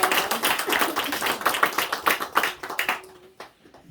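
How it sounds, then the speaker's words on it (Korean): Audience at a Sunday afternoon church service clapping in welcome for arriving students, a lively crowd of hands beating briskly, then thinning out and fading to near silence at the end. "우리 환영의 박수 한번 할까요?"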